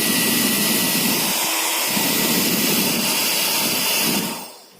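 A Nova hair dryer on its cool setting blows with a loud, steady rushing whoosh close by, then cuts off and winds down at the end.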